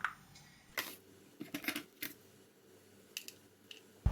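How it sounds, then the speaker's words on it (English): Scissors snip the stalks off wild garlic seed pods, giving several crisp, close cuts in irregular bursts, each a short bright click against a quiet background. "it's best to get yourself some scissors"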